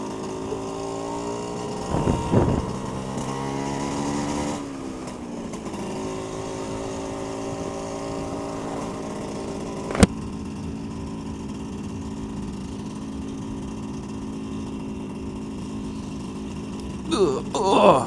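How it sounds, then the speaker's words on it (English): Vespa PX125 two-stroke scooter engine running while riding in third gear, a steady droning buzz with harmonic whine holding close and continuous, briefly revving and shifting near the start, with a sharp tick midway. "Can't beat the sound and smell of a two-stroke."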